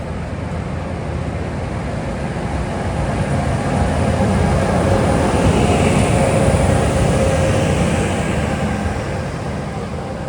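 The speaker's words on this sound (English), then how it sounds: "ALP45DP shoving." An ALP45DP dual-mode locomotive shoves a New Jersey Transit commuter train past, a steady broadband rumble that swells gently mid-clip and holds, heard alone with no talk.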